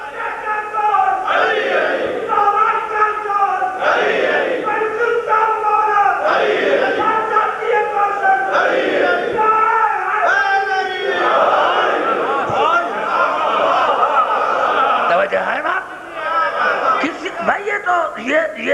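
A crowd at a religious majlis chants slogans in loud rhythmic call-and-response waves, many voices rising together repeatedly, with shouts and murmuring between the chants.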